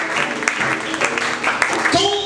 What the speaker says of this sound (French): Est-ce que vous pouvez acclamer pour cette parole?